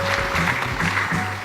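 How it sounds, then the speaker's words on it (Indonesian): Audience applause at a talk on Islamic family education, a steady clapping that swells and eases, with a faint hum running beneath it. "Tepuk tangan bapak-bapak."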